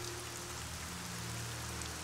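Steady rain falls in the fantasy role-playing game ArcaniA, a dense continuous hiss of drops on surfaces with no break, heard alone without any voice.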